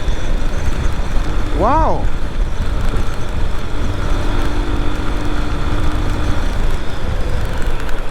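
Steady, loud engine drone and wind rush from a Lifan KPT200 motorcycle riding in sixth gear, with a rider's short exclamation and a passing horn-like tone partway through.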